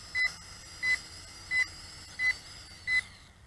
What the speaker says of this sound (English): And the beeping has stopped on the remote control as well.